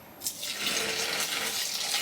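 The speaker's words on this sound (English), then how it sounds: "next I'm going to add my water." Water poured into a bin of pre-mixed dirt, a steady rushing splash that starts after a brief pause and keeps going close by without any voices.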